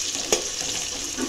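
Vegetables and spices for a village-style veg biryani fry in a pan with a soft, continuous sizzle and one brief clink of a utensil, close by and with no talk.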